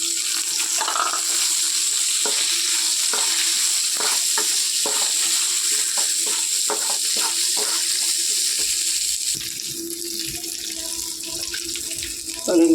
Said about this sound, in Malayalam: കഴുകി വെച്ച മുരിങ്ങയില ഇടും.